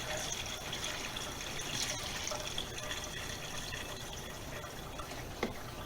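Flush liquid runs down into the engine of a 1976 Ford LTD during an oil change, a steady close trickle and pour with faint drips, no one talking.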